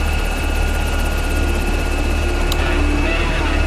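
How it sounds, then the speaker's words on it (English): A rescue helicopter flies through a dark night of torrential rain and strong wind near a headland. The rotor and engine roar stays loud and steady throughout with no voices. "It's a 15-minute dash to the island by chopper"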